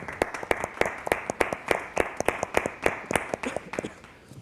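Audience applause for poet Juan Daniel at a Medellín international poetry festival event, a small group clapping in crisp, fairly regular claps close by, continuing steadily without talk.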